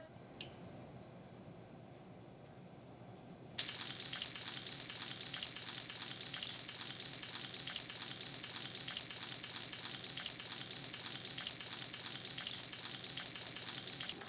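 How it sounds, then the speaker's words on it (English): Fresh wild salmon frying in avocado oil, a steady dense sizzle and crackle that jumps louder a few seconds in and continues evenly throughout, with no talking. "I'm cooking up this salmon, fresh wild salmon"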